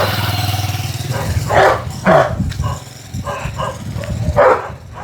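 Stray dogs along a rural road bark in short, scattered bursts, several barks spaced over a few seconds over a low engine rumble from a passing motorcycle.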